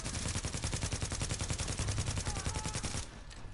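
LMG machine gun fire in The Division video game, a loud rapid unbroken burst of evenly spaced shots lasting about three seconds before cutting off sharply.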